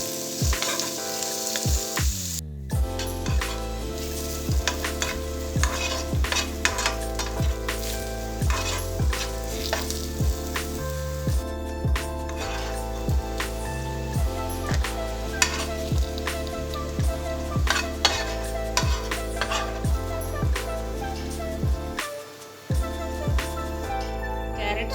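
Carrot pieces frying in oil left over from frying dried red chillies in a pan, a steady close sizzle with clinks and stirring scrapes throughout, no talk.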